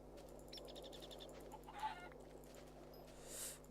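Soft, faint clucking of chickens in a video game, a few scattered calls over a low steady hum.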